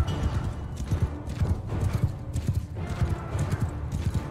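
Horse galloping in the video game Mount & Blade Bannerlord, rapid rhythmic hoofbeats, loud and continuous, with no talk.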